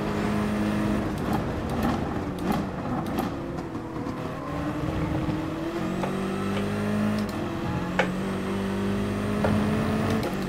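Nissan race car engine in GT Sport accelerating out of a corner during an online race, a steady loud engine drone with rising pitch sweeps as gears change, several upshifts in sequence.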